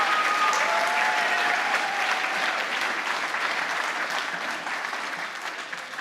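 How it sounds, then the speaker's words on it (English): Steady audience applause at a school district jazz festival for student soloists, a dense wash of clapping that holds strong and slowly tapers over several seconds, without talk. "So can we give all the kids who soloed one more round of applause?"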